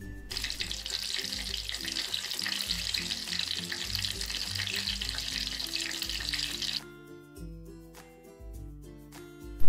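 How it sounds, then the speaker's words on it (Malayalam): Potato slices dipped in batter for bajji fry in hot oil with a loud, steady sizzle and crackle that cuts off sharply near the end, leaving quieter bubbling and pops. "ശേഷം അതും മാവിൽ മുക്കി പൊരിച്ചെടുക്കുക"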